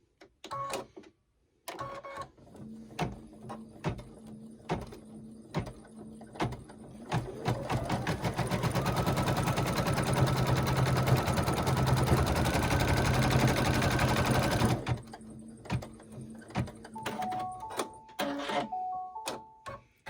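A sewing machine stitches down the sides of a Sweet Pea Celebration table runner in one steady, loud run of about seven seconds, with quieter handling sounds and brief clicks before and after.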